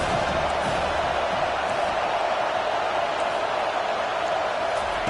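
Football stadium crowd roaring steadily for the defense on a big third down late in a one-possession game, a dense, continuous wash of distant cheering and hubbub without a break.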